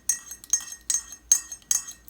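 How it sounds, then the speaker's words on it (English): A spoon clinks against a glass of water while stirring an ice cube, five bright taps about every half second, close and clear with no talking. "So now I'm stirring until the ice cube is completely melted."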